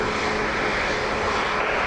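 A large airliner on approach to land on runway 28 left at Dublin Airport, its engines giving a steady, broad roar that holds constant and fairly loud throughout, with no voices.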